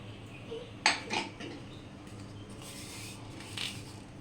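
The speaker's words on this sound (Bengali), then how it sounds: "এখন আমি নিয়ে এসে ভেজে নেওয়া মশলাটা আমের মধ্যে দিয়ে দিচ্ছি" Fried spice mix added to mangoes in a bowl, with a couple of soft clinks near the start and a faint one later over quiet background hiss.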